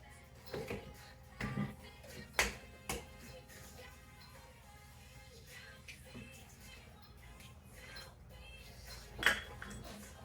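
Eggs being beaten in a bowl in a home kitchen, scattered clinks and taps of utensil on the bowl rising out of a quiet room, with a voice speaking in between.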